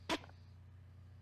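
A turkey call imitates a turkey's putt alarm call: a single short, sharp note near the start, followed by silence over a steady low hum.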